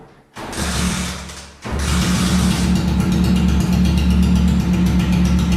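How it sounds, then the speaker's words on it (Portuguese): A motorcycle engine starts with a short crank and catch, drops back briefly, then settles into a loud, steady, close idle that runs on without talk. "Vou ligar a moto agora e vai começar a aparecer os números aí."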